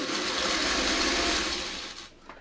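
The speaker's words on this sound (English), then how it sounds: "now I'm going to hold it so this one gets sewn next" A sewing machine runs steadily while stitching fabric, giving a fast, even whirring rattle for about two seconds before it slows and stops.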